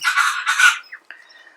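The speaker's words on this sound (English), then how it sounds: "Oh, the birds are at it. I've got to compete with the bird noises." Chickens and birds calling outdoors, two loud raspy squawks up front followed by a few faint, brief chirps trailing off.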